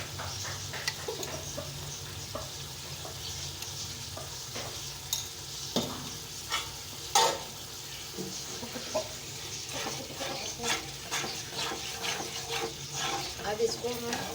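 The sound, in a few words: masala with tomatoes frying in pan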